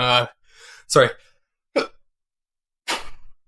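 A few short, sharp bursts of breathy vocal sound, quick hiccup-like sneezes, separated by brief silences.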